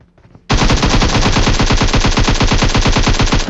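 Rapid automatic gunfire from an AKM rifle in a shooter video game, a fast unbroken burst of loud, close shots that cuts in after a brief quiet moment and runs to the end.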